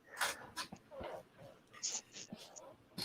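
A dog whimpers faintly in short, soft bursts while wanting to be let inside, mixed with breathy sounds under quiet human voices nearby.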